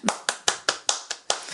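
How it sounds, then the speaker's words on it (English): Seven sharp hand claps ring out in an even, slightly slow rhythm, close and dry, about a quarter second apart. "You clapping for yourself, and we're done."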